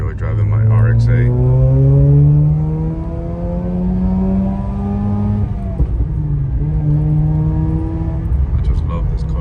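A Mazda RX-8 car being driven, its engine hum sweeping steadily up and down in pitch as it accelerates and eases off, loud and close from inside the cabin with no talk over it.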